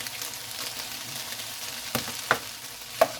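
Tomato puree is stirred into a mixed bean chilli in a pan, giving a steady soft sizzle and scraping with a few sharper spoon knocks toward the end.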